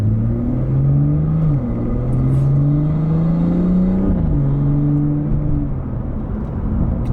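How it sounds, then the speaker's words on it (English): BMW F30 with a B58 engine running an XHP transmission tune in sport mode, accelerating hard from inside the cabin: a loud engine drone climbing in pitch, then an abrupt dip at a sharp gear change before it rises again. "That gear change from first to second was aggressive."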